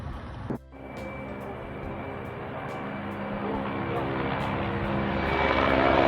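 A helicopter flies low during an attack on a fuel storage facility in Belgorod, its engine and rotor drone rising steadily louder and nearer over several seconds.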